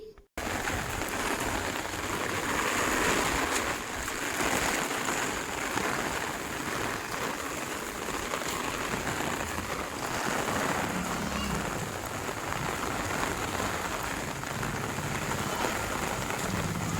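Steady rain falling outdoors during the monsoon, a dense continuous hiss of drops on surfaces that stays loud and even throughout, with no voices.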